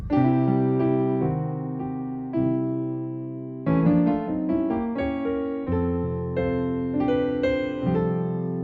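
Piano chords ring out in a quick gospel-style 5-1-4 passing chord progression, as in the song "Only Believe," with bright stacked harmonies shifting every second or so, played alone and clearly.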